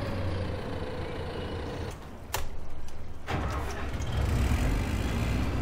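Farming Simulator 2015 combine harvester engine running loud and steady, a continuous low mechanical rumble with brief shifts and a surge near the end, no talking.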